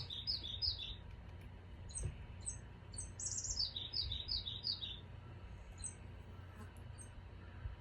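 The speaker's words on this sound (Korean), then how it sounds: "새소리가 진짜 좋더라고요." Small birds sing high, quick chirping phrases in bursts, somewhat distant, over a quiet outdoor background hum, in a forest on Myeongjisan mountain's Myeongji Valley trail.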